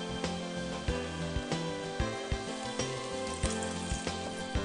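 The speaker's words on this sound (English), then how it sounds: "When the contents give off an aroma, add the shrimp and continue stir frying." Shrimp stir-frying in a hot pan for a seafood curry: steady loud sizzling with regular clinks and scrapes of a utensil against the pan every second or so.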